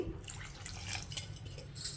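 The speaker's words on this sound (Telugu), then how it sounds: "ఇప్పుడు ఇందులో కొద్దిగా నీళ్ళు వేసేసుకుందాము" Water is poured over salted fish pieces in a vessel, giving a close, soft splash and trickle with light dripping and a faint clink of dishes.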